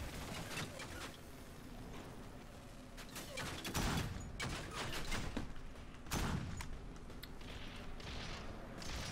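Sticky grenade explosions in the Warframe video game, several bursts of rapid gunfire-like blasts and sharp booms in clusters, moderately loud over a busy game soundscape.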